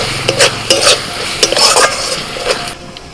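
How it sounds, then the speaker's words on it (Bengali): Spice paste for egg curry being slowly stir-fried in a pan, a close, loud sizzle with repeated rhythmic scrapes and clinks of a spatula against the metal, fading out at the end. "এবার মশলাটা আস্তে আস্তে ভালো করে কষিয়ে নেবো, একটু সময় নিয়ে।"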